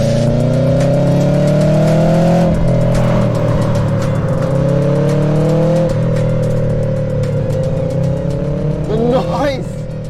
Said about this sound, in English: that iconic EJ flat 4 engine with over 200 horsepower and 300 Newton meters going to all 4 wheels